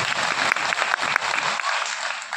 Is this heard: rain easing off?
no